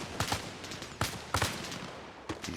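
Machine gun fire during a video game battle between USMC Raiders and insurgents at an outpost: several short, sharp bursts come in quick clusters at moderate distance, separated by brief gaps, with no one talking.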